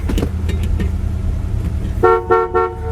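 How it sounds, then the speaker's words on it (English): The horn of a 1966 Chevy Chevelle Malibu convertible sounds in two or three short, loud blasts after a brief stretch of idling engine rumble and clicks, heard close up. "There's our horn."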